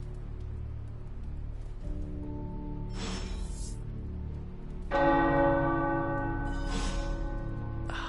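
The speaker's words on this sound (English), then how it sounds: "The tower bells are ringing." Tower bells ring out in overlapping tolls in the video game Marvel Midnight Suns, deep resonant strikes that layer and sustain over a steady low hum.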